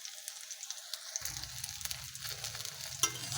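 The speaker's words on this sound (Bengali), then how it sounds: "বেগুনটা ভাজা হলেই তুলে নেব।" Eggplant slices frying in hot oil in a pan, a steady close sizzle that swells after the first second and continues with crackling spits throughout.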